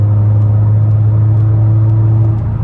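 A Honda Accord Sport engine accelerating at about 3,000 RPM drones with a steady low hum from inside the cabin, holding an even pitch throughout with a faint whir on top.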